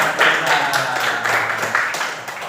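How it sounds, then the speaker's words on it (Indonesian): Schoolchildren clapping their hands together in a classroom, a dense burst of many small hands slapping at a quick, uneven rhythm that stays steady and close for a few seconds. "Ya, tepuk tangan."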